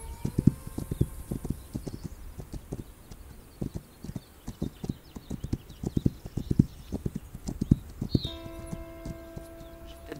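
Steady clip-clop of a horse's hooves in the video game This Land is My Land, even and fairly close, with a low hum beneath and a brief higher tone near the end.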